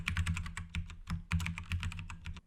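Fingers tap quickly on a computer keyboard, a close run of crisp clicking keystrokes in two bursts with a brief pause between, alone without speech.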